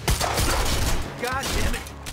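Gunfire in the video game Quantum Break, a dense burst of shots running through the whole short stretch, loud and close, mixed with shouting voices.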